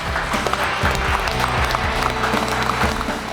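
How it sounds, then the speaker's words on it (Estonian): A crowd claps loudly and continuously, dense applause filling the whole stretch with no pauses. "teeme ka neile suure aplausi"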